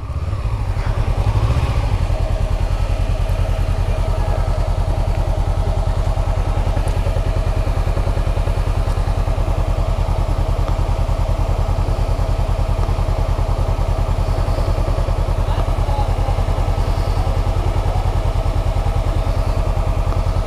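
A motorcycle engine idling and running steadily close by, a loud, continuous chugging drone with a faint rattle, holding an even pitch for the whole stretch.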